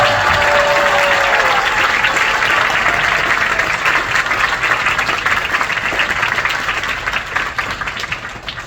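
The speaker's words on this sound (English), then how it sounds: "give them the biggest round of applause." A convention audience at a furry con's closing ceremony applauds its staff, loud and sustained dense clapping filling the whole stretch, slowly easing toward the end.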